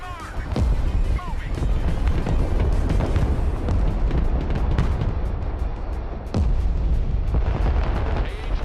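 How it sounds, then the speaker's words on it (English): Artillery fire in the video game Broken Arrow: a dense run of heavy booms and rumbling blasts, loud and continuous, with a short lull before the barrage resumes, under radio-style voice chatter. "Artillery reporting in. Direct fire on my mark."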